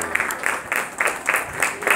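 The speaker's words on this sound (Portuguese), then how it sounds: "a torcida aqui à minha esquerda aplaude" Spectators at a youth under-11 football match applaud in steady, close rhythmic claps, a small crowd clapping briefly and fairly loudly with little else around.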